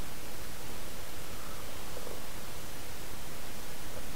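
An electric coffee grinder grinds whole Aldi Peruvian coffee beans with a steady, dense, close whirring roar that holds evenly throughout, with no talking.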